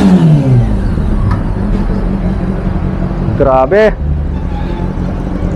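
Big bike motorcycle engine revving under men's chatter, with a loud sharp backfire pop near the end and the exhaust settling back to a rumble.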